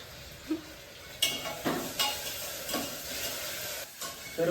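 Onion and tomato fry in a pan while being stirred, a steady sizzle with repeated scraping strokes of a spoon, close and alone without talk.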